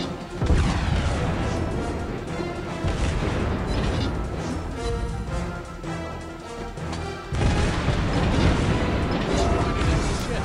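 Main guns and secondary batteries of the battleship Scharnhorst fire in World of Warships Blitz, a dense, loud run of heavy booms and crashing impacts that rolls on for about ten seconds, with a fresh burst of blasts near the end.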